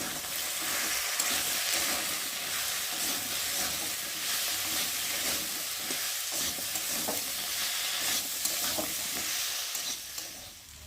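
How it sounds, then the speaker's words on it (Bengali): Ginger paste, cumin paste and green chilies sautéing in a pan for a spinach and prawn dish, with a steady broadband sizzle and occasional stirring scrapes throughout, close and continuous with no talk. "আর দেবো আদা বাটা, জিরে বাটা, আর কটা দেবো কাঁচা লঙ্কা দিয়ে একটু ভালো করে কষিয়ে নেব"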